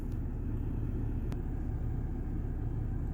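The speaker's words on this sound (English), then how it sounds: "Now my car is on at the time that I'm filming this." The engine of a parked 2011 BMW 528i F10 idles, a steady low rumble heard from inside the car on a hot day, with a single faint click partway through.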